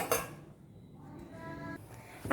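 A metal plate clinks down over a bowl of ragi dosa batter, a sharp clatter at the start and a softer clink at the end, with quiet room tone between.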